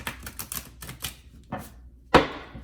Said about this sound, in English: just tap these cards a little bit to